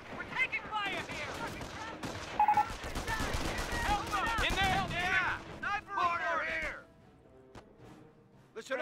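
Rapid rifle and machine-gun fire rattles through a World War II battle in the real-time strategy game Company of Heroes. Dense bursts build in the middle and then taper off into scattered single shots. Shouted soldier voices mix in.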